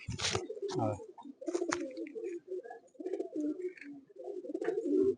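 Karingand pigeons in a loft keep up repeated low, rolling coos close by for several seconds, with a few sharper bursts mixed in.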